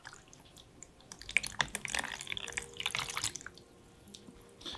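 Leather piece soaking in a basin of water, with gentle close drips, small splashes and sloshing that swell and fade irregularly, no talking.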